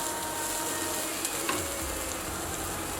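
Noodles with chili and salt stirred in hot ghee give a steady, even sizzle with faint scraping of the stirring, close and continuous with no voices.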